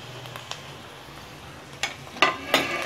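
Vegetables sauté in a pan, a faint low sizzle punctuated by a few light stirring scrapes and taps toward the end.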